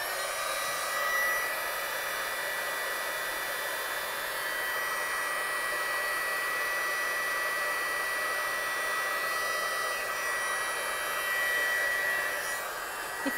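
A heat tool blows over wet watercolour paint, a steady close whirring rush of air that stays even throughout, with no speech.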